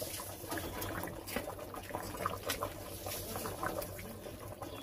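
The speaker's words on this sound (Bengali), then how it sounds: "এই যে ঝোলটা ভালোভাবে কিন্তু ফুটে উঠেছে।" Katla fish curry gravy bubbles in a pot on a village cooking fire, a steady close simmering hiss and gurgle with no talk.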